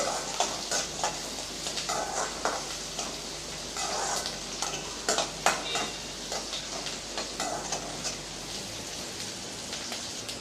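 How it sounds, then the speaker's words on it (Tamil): Small onions sautéing in oil for a spicy brinjal curry: a continuous close sizzle and crackle, with irregular scrapes and taps of a spoon stirring the pan and no talking. "இப்போ வெங்காயம் ஓரளவுக்கு நல்லா வதங்கிடுச்சு"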